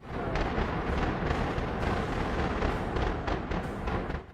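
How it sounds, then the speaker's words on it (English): Dense, continuous rumbling blasts from a large power plant demolition explosion, booming and crackling for several seconds at a distance. "the explosion seemed quite impressive, with booming sounds, smoke, and signs of collapsing"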